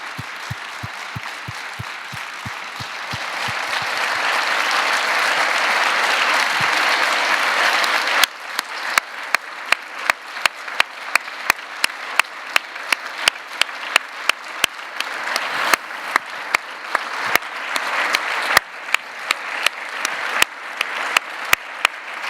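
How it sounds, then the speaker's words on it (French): Audience applause at a sporting forum event: broad dense clapping from a sizeable crowd that swells and then thins into scattered, distinct individual claps, loud and sustained with no talk over it. "Je pense que vous méritez des applaudissements."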